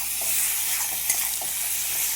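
Ginger garlic onion paste masala frying and being stirred in a pan for mutton curry, a steady close sizzle with soft scraping strokes of the spoon throughout.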